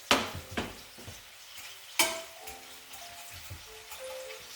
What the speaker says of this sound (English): On that sizzling sweet onion